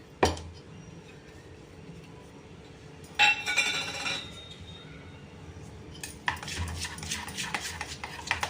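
A spoon clinks and scrapes against a bowl while semolina is stirred into yogurt with salt, quiet at first, then bursts of louder rattling mixing near the middle and toward the end, with no talk.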